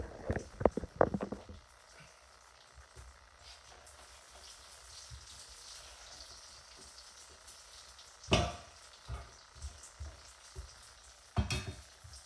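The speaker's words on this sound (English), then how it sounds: "And we got our coconut cream sizzling away." Coconut cream sizzles steadily in a hot pan with a soft frying hiss, with a couple of louder stirring or clattering bursts near the end and no talking.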